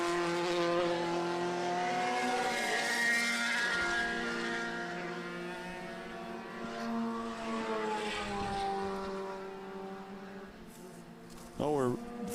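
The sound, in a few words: race car engines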